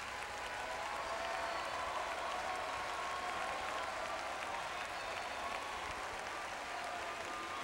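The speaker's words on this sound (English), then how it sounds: "Clap your hands, oh, you people." A church congregation claps in praise during a worship service, a dense, steady roar of applause filling the whole span at even loudness, with faint crowd voices mixed in.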